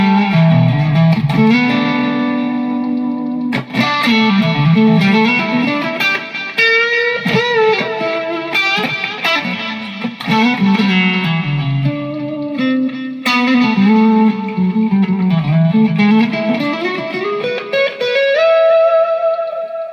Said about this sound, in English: Let's make it drip with some reverb.